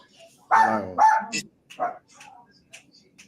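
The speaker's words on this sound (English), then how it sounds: "Can't hear you over the dog." A dog barks indoors in a home, a couple of loud close barks followed by a few shorter yips and sounds, with people talking nearby.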